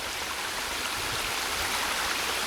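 Swollen stream rushing after a night of heavy rain, a dense steady wash of flowing water heard close and continuous, with no talking.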